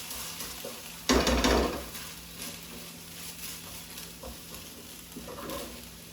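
Mushrooms with ginger and garlic fry in a pan for a Korean vegan bibimbap, a low steady sizzle broken by a loud stirring scrape early on and softer stirs later.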